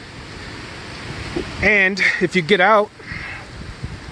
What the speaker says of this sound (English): If you hear a little noise in the background, it's just the wind. It's a windy day today.